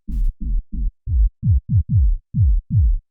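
Low end of a synthesized techno kick drum, isolated: a run of nine deep, thumping hits with fast downward pitch sweeps, loud and dry, spaced unevenly with short gaps, no other sounds.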